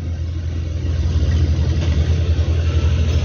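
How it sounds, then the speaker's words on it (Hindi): A CAT motor grader's diesel engine runs steadily nearby, a loud, continuous low rumble with a slight pulsing throb. "ग्रेडर चल रहा है कैड का"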